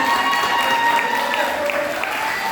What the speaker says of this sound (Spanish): un gran aplauso para todos ellos